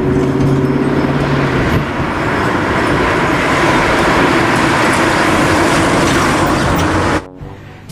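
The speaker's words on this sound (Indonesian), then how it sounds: "yang ini mobil bus sekolah" A toy school bus gives off a loud, steady engine rumble and whir that holds for about seven seconds and then cuts off abruptly, heard up close with no talking.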